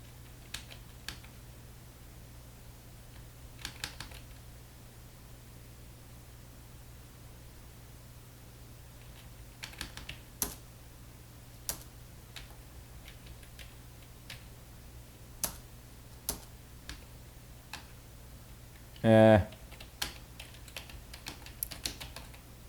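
Computer keyboard keys are pressed while a game is played: sparse, quiet single clicks spaced irregularly over a faint steady hiss, with one brief louder burst of rapid taps near the end.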